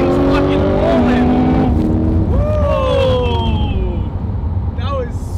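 Corvette C8 and a modded 700HP Nissan GTR launch together in a race, loud engines roaring and revving up through gears with a rising whine, under excited voices talking over the noise.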